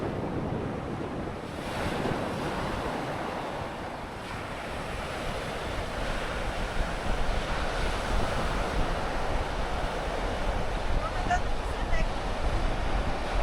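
Atlantic Ocean surf breaks steadily on a Florida beach. The roar is broad and continuous, with wind buffeting the microphone throughout. No words are spoken in the clip.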